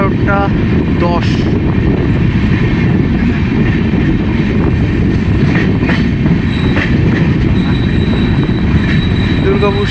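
At night a superfast express rolls into platform 3 at Durgapur station, a loud, continuous rumble of carriages and wheels from on board, with occasional metallic clicks and a thin squeal of braking wheels.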